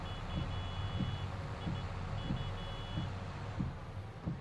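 A farm vehicle spreading lime in Farming Simulator 22 gives off a high, regular electronic reversing beep in short pulses, with heavy engine rumble and periodic low thumps underneath.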